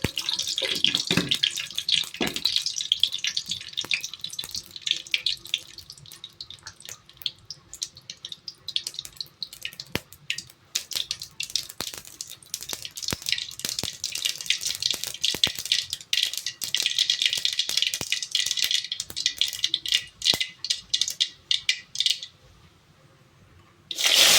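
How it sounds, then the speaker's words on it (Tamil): Mustard seeds spluttering in hot oil while tempering a Tamil sundakkai vathal kuzhambu, a dense, continuous crackling hiss with scattered sharp pops that runs loud and steady for most of the clip before cutting off near the end. "எண்ணெய் கொஞ்சம் ஊற்றி வச்சு கடுகு கொஞ்சம் போட்டேன்."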